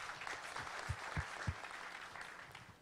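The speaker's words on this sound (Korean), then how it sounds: "대표님 박수 한번 부탁드리겠습니다" A small group claps in a quiet room at a Korean startup forum, soft and scattered, with a few sharper hand claps standing out.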